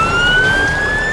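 An ambulance siren wails steadily and loud as a rescue team with a crane truck arrives, its single sustained tone rising slightly with no voices over it.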